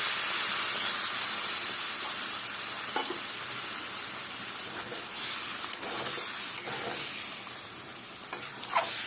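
Loud, continuous sizzling and hissing as water is poured into a pan of oily, browned meat for aloo dum, with sputtering bursts throughout and no talk.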